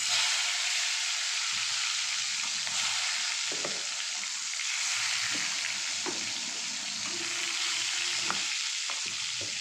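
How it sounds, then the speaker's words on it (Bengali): Large pieces of eggplant fry in hot mustard oil, giving a loud, continuous sizzle with occasional sharp crackles and spatters, close up and without speech. "তেলটা গরম হয়ে গেছে, অল্প অল্প বেগুন দিয়ে ভাজা করে তুলে নেব।"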